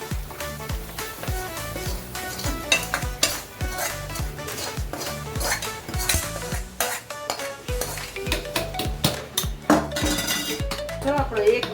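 Garlic tempering being stirred into pav bhaji in a pot: a ladle scrapes and clanks repeatedly against the metal in a busy, steady rhythm over a soft sizzle, close and fairly loud.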